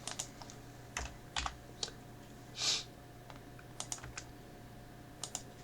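Keystrokes on a computer keyboard come in short, irregular bursts of light clicks, fairly close and quiet over a low steady room hum, with one brief louder rustle partway through.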